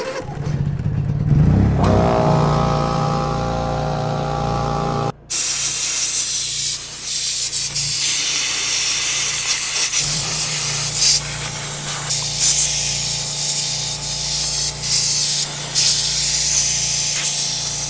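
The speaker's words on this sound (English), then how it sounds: "charge up the air compressor so I can blow out around back of that oil filter" Compressed air blasts dust from around the oil filter of a Farmall 140 tractor. The hiss is loud and continuous and runs close for the whole stretch, with a steady engine drone underneath and no talking.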